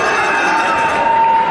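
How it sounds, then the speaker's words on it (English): A boxing crowd at a middleweight fight night in Bolton shouts and roars in a dense, steady wall of noise for the whole short stretch, close and loud without a break. "Crowd shouting for it."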